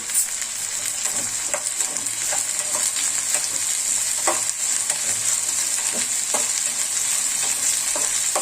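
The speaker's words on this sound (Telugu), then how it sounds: "మనం నువ్వులు ఇంకా పల్లీలు కూడా వేసేసుకోవాలండి ఇదంతా మళ్ళీ ఒకసారి వేగనిద్దాం వాటిని" Sesame seeds and peanuts fry in a pan with a steady, bright sizzle, broken by soft clicks and scrapes as they are stirred, close and continuous with no voices.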